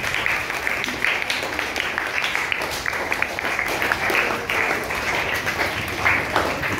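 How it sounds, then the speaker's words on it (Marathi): Students at a school event in Malvani, Malad marking Birsa Munda's birth anniversary applaud a classmate dressed as him, with lively, continuous clapping from a sizable group that is close and fairly loud. "सर्वांनी आधी त्याच्यासाठी छान टाळ्या वाजवायच्या आहेत"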